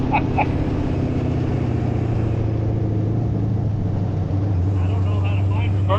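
A sandrail with an LS engine runs on a dyno at quarter throttle, a steady low rumbling drone that holds an even pitch, loud and close, with people talking over it.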